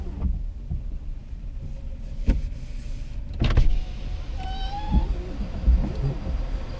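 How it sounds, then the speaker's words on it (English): A window on a Tesla Model X gives a short rising squeak midway through, heard inside the car over low road and cabin rumble, with a few faint knocks around it. "Bit of a squeak from the window there."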